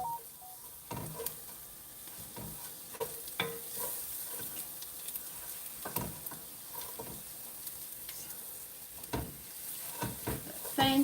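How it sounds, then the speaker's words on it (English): Bok choy sautéing in a pan, a soft continuous sizzle broken by repeated clacks and scrapes of stirring, fairly close, with brief voices now and then in the background. "we're going to saute these"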